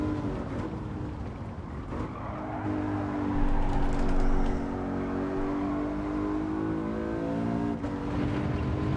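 A race car accelerates hard through a corner exit in Gran Turismo 7 during a licence test, its engine a loud, sustained whine that climbs and shifts in pitch, with no voices.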